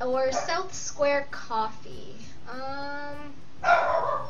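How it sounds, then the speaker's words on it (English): A dog barks several times in short yelping bursts somewhere in the background, mixing with a game's background music while a person talks over it. "If you can hear my dog barking in the background,"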